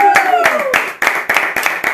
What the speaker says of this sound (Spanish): Me gustaría que le demos la bienvenida con un fuerte aplauso a Elena Olmedo.